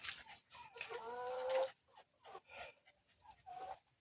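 Farm chickens cluck and squawk in uneven bursts, with one loud, drawn-out call among shorter clucks, heard fairly close on a rural homestead.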